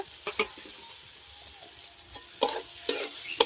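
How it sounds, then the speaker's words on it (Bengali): Tomatoes, turmeric and salt being stirred and fried in a pan for a fish chorchari with mourala fish and taro, a low steady sizzle broken by a few sharp spoon scrapes and clacks, close and without talk. "একটু নেড়ে চেড়ে ভালো করে কষিয়ে নেব"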